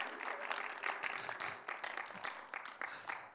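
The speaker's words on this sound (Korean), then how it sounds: "박수 한번 쳐주세요, 선생님" A small audience at a gathering of Christian workers claps to honour the speaker's wife, quiet, uneven clapping with distinct individual claps, somewhat distant.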